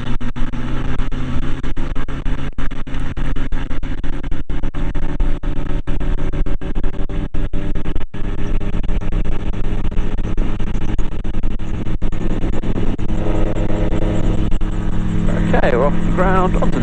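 A gyrocopter's engine with its propeller runs loud and steady, building in power for a takeoff roll in France; the drone holds dense throughout, with a rising tonal whine near the end and a voice talking over it.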